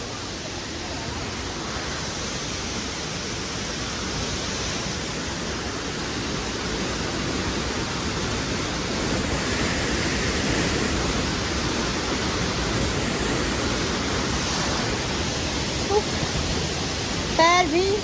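A hidden waterfall at Suringgad pours with a steady, loud, close roar that fills the whole stretch. A few faint high chirps cut through the rushing water near the end.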